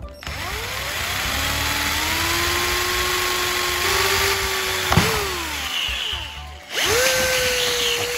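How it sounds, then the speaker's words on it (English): A power drill whines steadily into the bottom of a plastic bottle, its pitch rising and falling as it bites, pausing briefly around the middle before spinning up again. "Now, drill a hole in the center of the bottle's bottom."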